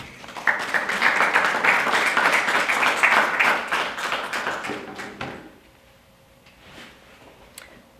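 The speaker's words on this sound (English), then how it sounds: "So round of applause for you all as well." A crowd claps for about five seconds, a dense burst of applause that fades out, leaving a quiet room with faint scattered noises.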